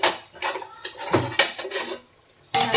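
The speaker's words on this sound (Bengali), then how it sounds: "এখন হাঁড়ির চারিদিকটা করে দিয়ে 10 মিনিট মতন ঢাকা দিয়ে গ্যাস বন্ধ করে ঢাকা দিয়ে রাখবো" A metal lid clatters onto a cooking pot of meat khichuri, with a series of clanks and scrapes as it is set and adjusted, then a short pause before one more loud knock.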